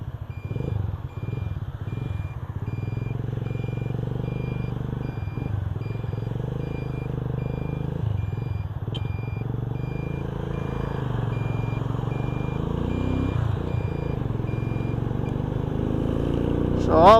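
A stuck truck sounds its reversing alarm on a hazy, smoky road: a steady series of evenly spaced beeps runs throughout over a constant low engine rumble, with occasional voices in the background.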